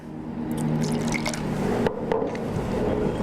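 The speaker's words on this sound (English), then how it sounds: "I'm going to give a tiny little rinse because I had all those big hops in there" A beer glass gets a small rinse to clear out heavy hops, a close wet splash and dribble of liquid with a few drips and squishy pours, steady and continuous over a low background hum.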